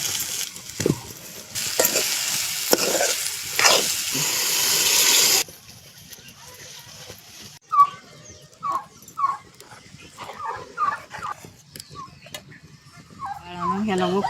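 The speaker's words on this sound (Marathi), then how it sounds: "असं परतावं लागतं म्हणजे चांगलं लागत" Ridge gourd curry with coconut masala being stir-fried in a village kitchen, a steady loud sizzle and scraping of stirring for several seconds, then quieter with a dog whimpering and birds calling nearby.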